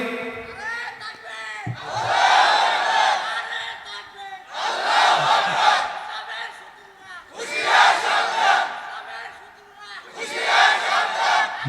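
A crowd at an Islamic sermon in Gafargaon chants takbir in unison, four loud repeated waves of massed voices swelling and falling in a steady call-and-response rhythm.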